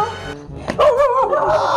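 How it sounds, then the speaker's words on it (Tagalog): A dog barks and yips close by in a comedy sketch scene, a short burst of sharp calls mixed with whiny, wavering tones, fairly loud and with no talk over it. "Hay, may aso!"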